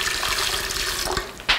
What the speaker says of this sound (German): Und jetzt tun wir da in den Topf heißes Wasser.